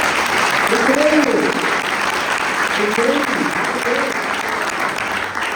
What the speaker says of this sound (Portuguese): Vamos aplaudir a Jesus porque vai acontecer.